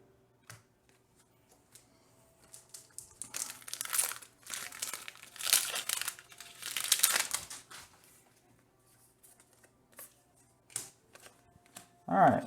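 Magic trading cards from a Modern Horizons 2 box are sifted and shuffled by hand, quiet at first, then bursts of crinkly flicking and rustling in irregular clusters, with a sharper rustle at the end.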